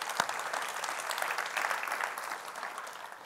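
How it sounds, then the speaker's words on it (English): A church congregation breaks into dense, steady applause, close and full for the whole stretch, with a sharp single clap standing out near the start and the clapping thinning only slightly at the end. "Can we just give them a round of applause?"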